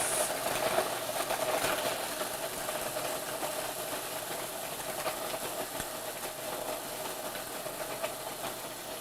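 A food processor grinds cookies into fine crumbs, a steady loud mechanical whir with a gritty rattling texture that runs unbroken from start to finish with no voices.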